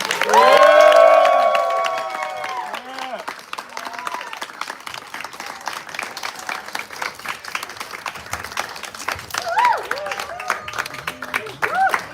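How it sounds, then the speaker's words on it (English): Studio audience at a Dancing with the Stars live show cheering and clapping for departing judges and hosts, a loud burst with cheers and whoops that fades into sustained scattered applause and crowd murmur. "Let's give them a big round of applause."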